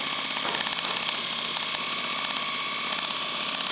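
A bench-tested starter motor runs off an inverter MIG welder, making a continuous motor whine with a faint tonal hum and slight rhythmic flutter, steady and close for the whole stretch.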